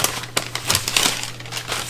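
Masking paper for a DIY bike stand paint job is crumpled and crinkled up close, a dense run of crackly rustling bursts with no talk over it.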